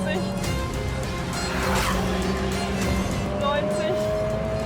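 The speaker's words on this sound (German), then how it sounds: "du beschleunigst jetzt schnell von 0 auf 100 Meilen pro Stunde" A Lotus Emira sports car launches hard from a standstill, its engine roaring steadily and climbing in pitch through the gears, loud and close. A voice talks excitedly over it.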